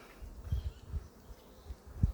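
Close, low buzzing of local honey bees at a hive in short irregular bursts with soft thumps, no voices.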